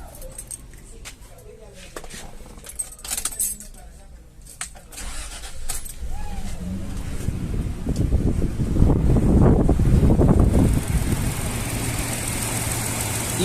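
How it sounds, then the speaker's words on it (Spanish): A car engine is started, with key jangles and faint clicks first, then it cranks and settles into a steady idle hum. A voice talks over the quieter opening moments. "Voy a encender el motor."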